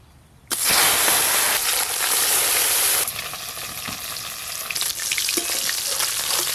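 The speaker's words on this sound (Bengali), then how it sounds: "এই মাছগুলো কিন্তু হালকা করে ভেজে নিলেই হয়ে যাবে।" Parshe fish hit hot oil in a wok with a sudden loud sizzle that then settles into a steady, crackling fry, close up and with no voices.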